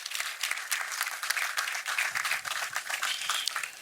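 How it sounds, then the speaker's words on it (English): Sustained applause from an audience at the inauguration of Ghana's GOLDBOD, honoring President John Dramani Mahama; dense, steady clapping fills the whole stretch with no voices over it. "I think he deserves a round of applause."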